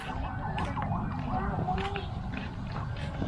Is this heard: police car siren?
yes